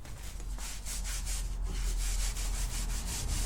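A rag wipes down a newly installed TAB exhaust on a Harley-Davidson Street 500 motorcycle, making a steady, soft rubbing swish with faint repeated strokes, close and quiet.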